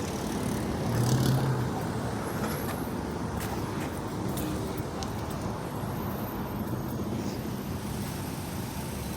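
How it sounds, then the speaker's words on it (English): A parked police car sits with its engine running outdoors, giving a steady, even rumble throughout, mixed with faint passing traffic and occasional distant clatter. "He's got this car running."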